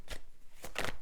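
A tarot card slides off the deck in two quick papery flicks close by, the second sharper and louder, with no talking.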